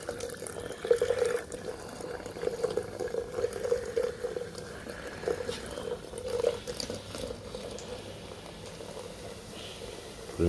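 Sodium metabisulfite dissolved in water pours into a beaker of gold solution while the mixture is stirred, making a steady trickle and splash with gentle bubbling up close for several seconds.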